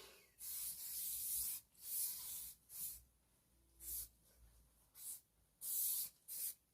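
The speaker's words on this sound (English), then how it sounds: "I'm gonna put some spray on." Short bursts of spray are applied in a quiet room while getting ready, each hissing puff lasting about a second, repeated several times with brief pauses between.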